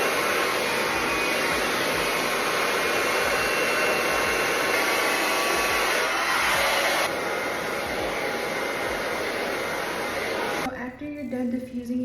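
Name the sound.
hair dryer with diffuser drying curly hair extensions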